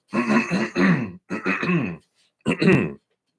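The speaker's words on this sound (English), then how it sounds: "Let me just clear my throat here." A person clears their throat loudly several times in close succession, harsh rasping bursts separated by short pauses.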